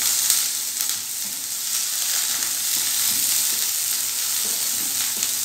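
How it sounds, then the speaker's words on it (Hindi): Chopped onion frying gently in a tablespoon of oil as stuffing for masala stuffed round gourd, a steady soft sizzle with faint crackles running continuously, close and alone with no talk. "इस प्याज को हमने जलाना नहीं है यानी गोल्डन नहीं करना सिर्फ प्याज नरम करना है"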